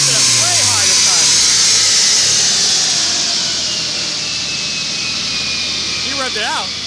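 A Subaru STI with a built engine roars on a dyno as it is revved out to about 7,500 rpm: a loud, sustained howl that climbs and then slowly settles, with voices faintly audible underneath.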